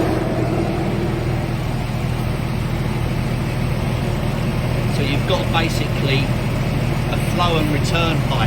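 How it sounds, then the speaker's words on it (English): Cooling blowers on a Porsche 997 running beside the idling engine, a steady broadband whoosh over a low engine hum throughout, close and constant. "And there you go, the blowers. They're kicking in."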